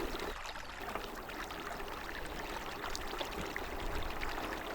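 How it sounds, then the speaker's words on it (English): Waves rolling in from the north on the northeast coast of Moray near Hopeman, a steady broad wash of surf at moderate distance, continuous and fairly faint, with no voices. "A whole morning of a series of double waves relentlessly rolling in from the north"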